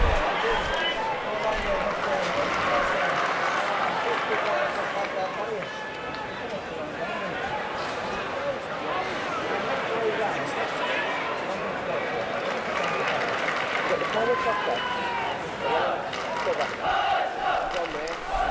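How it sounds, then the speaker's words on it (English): Leicester City supporters roar in the stands at an Everton vs Leicester City league match in the 1986-87 season, a steady, distant crowd din sustained throughout beneath a commentator's voice. "that's the Leicester City supporters you can hear in the background"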